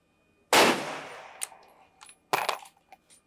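A loud sharp gunshot cracks at a shooting competition range, followed by a sustained ringing tail and then a second shot with its own echo, plus small metallic clinks between.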